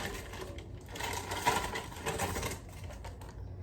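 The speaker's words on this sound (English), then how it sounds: "I always put my mixer on about halfway, maybe a little to the number 2 on if you're using a KitchenAid mixer" A KitchenAid stand mixer set to about speed 2 creams cream cheese, giving a continuous whirring motor with a rattling beater clatter that swells slightly midway and stays close and fairly loud.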